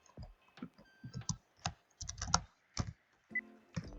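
Typing Python code on a computer keyboard, with irregular bursts of close, crisp key clicks and short pauses between them, no talking.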